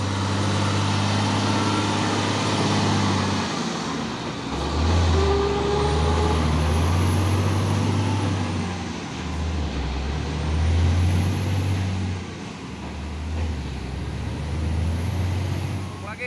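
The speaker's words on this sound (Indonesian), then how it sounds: "Terpantau rame kendaraan yang berlewatan dari tanjakan Bukit Korok di pagi hari." Trucks and other vehicles passing on the Bukit Korok uphill road in the morning, heavy engines droning and rising and falling nearby, with hissing air brakes and a voice heard under the traffic.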